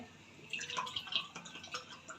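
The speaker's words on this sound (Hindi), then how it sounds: "इसके अंदर डालूँगी 2 कप पानी" Water from a cup splashes into a cooking pot of arbi gosht, a taro and meat curry, in a short close burst of pouring and bubbling.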